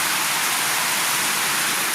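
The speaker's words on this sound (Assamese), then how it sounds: "ইমান ধুনীয়া বৰষুণ আহিছে" Steady heavy rain pours down, a dense, even hiss that fills the whole stretch without pause and with no voices.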